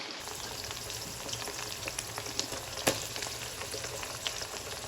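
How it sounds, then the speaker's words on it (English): Onion and garlic sizzle steadily in a hot pan, a dense continuous frying hiss with scattered pops and one sharper crackle near the middle, close and fairly loud, no talking. "Oh, onion and garlic, that's what that was."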